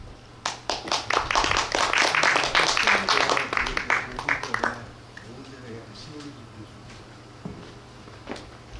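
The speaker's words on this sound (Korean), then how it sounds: "큰 박수로 손택수 선생님을 모시도록 하겠습니다" An audience at an outdoor poetry concert claps to welcome a speaker, a loud burst of applause that lasts several seconds and then cuts off, leaving faint room noise and a few stray sounds.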